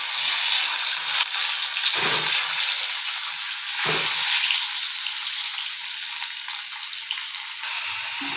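Potato and cauliflower pieces frying in a pan, a loud continuous sizzle broken by two brief dips where the food is stirred, without talk.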